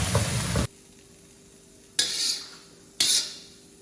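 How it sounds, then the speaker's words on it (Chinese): Stir-fried yellow-heart cabbage is tossed quickly in a wok: a loud burst of sizzling scraping, a pause of near quiet, then two sharp bursts of tossing that fade away. "快速的给它翻拌均匀"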